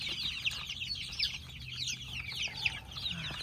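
Backyard chickens being fed spinach and greens cluck and chatter continuously in an excited flock, with scattered sharper calls over a low rumbling background.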